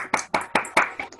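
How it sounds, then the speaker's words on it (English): Six sharp, evenly spaced claps in quick rhythm, close and fairly light, made one-handed by someone holding a phone during an online music session, with no talk over them. "I'll clap because I'm holding the phone in one hand."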